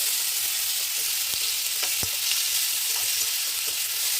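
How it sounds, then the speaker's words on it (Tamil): Tomatoes and green chillies sauté in a pan with a steady, close frying hiss, broken by a few sharp clicks from a utensil, and no one speaks. "இப்போ அந்த தக்காளியும் சேர்த்துக்கலாம், பச்சை மிளகாய், இது எல்லாத்தையும் நல்லா வதக்கணும்"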